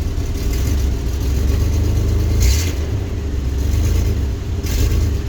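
A 2000 GMC Jimmy SUV engine with a cylinder 2 misfire idles close by with a steady low rumble, lumpy and rough, occasionally stumbling and surging as it runs unevenly.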